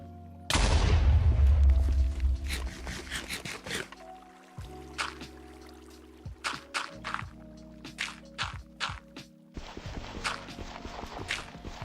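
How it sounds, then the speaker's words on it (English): A loud explosion detonates in the Minecraft video game, a sudden heavy low-frequency boom that rumbles for several seconds, followed by a scatter of small clicks and crackles as debris settles. "A little close, but we'll detonate here."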